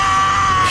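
A goat scream from a Thor film scene: one loud, sustained, strained bleating yell held for nearly a second, with no speech over it.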